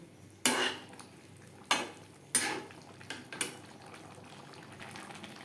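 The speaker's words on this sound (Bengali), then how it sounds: "ঘি গরম মশলা এঁচড়ের সাথে বেশ ভালো করে মিক্স করে দেবো" Ghee and garam masala are stirred into a vegetarian jackfruit curry, with several sharp spoon scrapes and clanks against the pot close up between quieter pauses and a soft simmer underneath.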